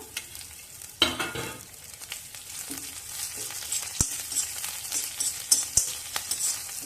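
Chopped green chilli and ginger frying in oil, a close sizzle punctuated by sharp utensil knocks and stirring scrapes against the pan, with no one speaking.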